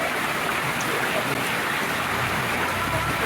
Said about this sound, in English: That is a lot of hail. And wind.